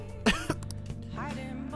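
A character in the video game Persona 5 coughs and clears the throat twice in quick succession, followed by a short voiced murmur.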